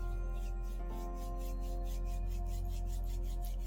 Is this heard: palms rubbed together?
yes